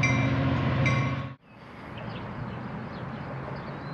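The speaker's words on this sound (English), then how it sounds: "Makes a lot of noise." Close train rumble and clatter as rail cars roll by at a station, loud and steady, then cutting off abruptly partway through to leave a quieter, distant rail hum with faint squeaks.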